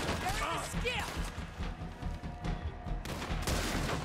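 Gunshots in Red Dead Redemption 2 crack through a busy stretch of game noise, several sharp reports packed into a few seconds alongside thuds and a talking voice.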